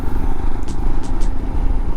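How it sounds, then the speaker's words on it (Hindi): Light early-morning road traffic by the beach in Vizag, with a motorcycle engine droning close by and a few brief hissy passes, loud and steady throughout. "और हल्का हल्का ट्रैफिक"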